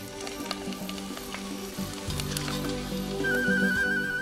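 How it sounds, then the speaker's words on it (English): Dried kelp (gugak) deep frying in oil as a temple snack: a loud, continuous sizzle and crackle with bubbling, close up and steady throughout, without any talk. "When they're dry, he deep fries them. This is called gugak, or fried kelp."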